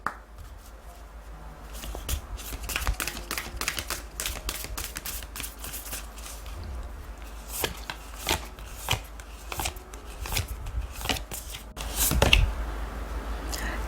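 Tarot oracle cards shuffled by hand, a long run of crisp riffling flicks and soft slaps in irregular bursts, close up, with no talking and a louder clatter near the end.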